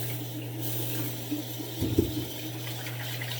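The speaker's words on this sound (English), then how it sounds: "It's a little bit dry, so I'm going to add a little water in my hands." Tap water runs from a faucet into cupped hands at a sink during a shave, a steady trickle with a brief louder splash in the middle, close by and alone.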